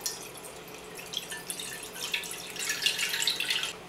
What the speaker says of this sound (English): I'm going to use my little tea strainer to get the seeds out and get this in the pot.